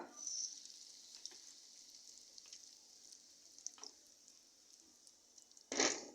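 Mustard seeds and asafoetida sizzle in hot oil over a low gas flame, a faint, steady hiss with scattered pops, ending in a brief louder burst.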